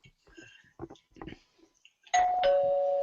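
A doorbell chimes two tones, clear and ringing, following a few soft shuffling sounds and faint movement.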